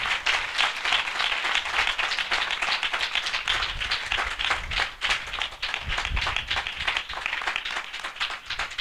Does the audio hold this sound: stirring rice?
no